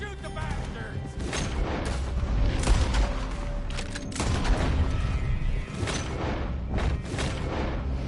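Shootout gunfire in Red Dead Redemption 2, with dense volleys of booming shots and thuds overlapping continuously, loud and close, amid a chaotic battle din.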